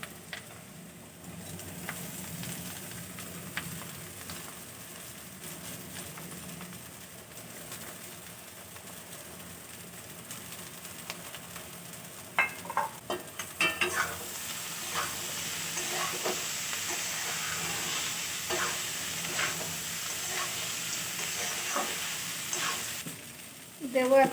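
Flattened rice (chira) goes into a frying pan for an egg and chira dish and is stirred, with a soft, low sizzle and scattered scraping clicks that grow busier in the second half.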